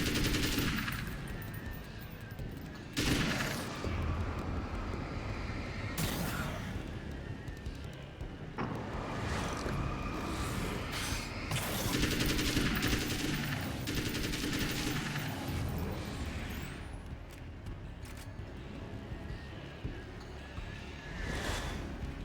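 Sustained automatic gunfire in the video game Alan Wake's American Nightmare, dense bursts of rapid shots filling the whole stretch at steady loudness, with a few sharper blasts and no pauses.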